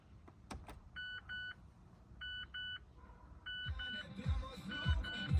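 Mazda 6 dashboard chimes as the ignition is switched on in a workshop, two pairs of short electronic double beeps repeating at intervals, followed by low mechanical whirring and clicks, with no talking.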